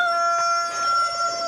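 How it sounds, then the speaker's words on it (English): A rooster crows close by and loud in a backyard, a single sustained call with a clear tonal cry. "these roosters are like assholes"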